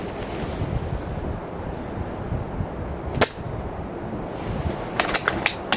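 Strong wind gusts buffet the microphone at an outdoor airsoft range, a loud continuous rumbling roar with a few sharp clicks and taps cutting through near the middle and end.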